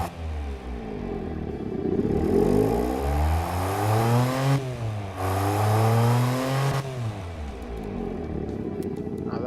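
Car engine in the Automation video game revving repeatedly, rising and falling engine tones with a brief dip between rev sweeps, loud and close, no talk.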